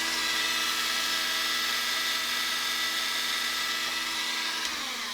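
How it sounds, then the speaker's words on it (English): A 5/16-inch drum sander bit spins on a rotary tool, sanding a jointed-belly jerkbait lure, giving a steady, close, high-pitched whine that runs unbroken with no talk. "And then I have this drum sander that is 5/16 of an inch."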